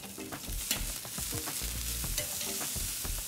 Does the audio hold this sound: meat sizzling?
yes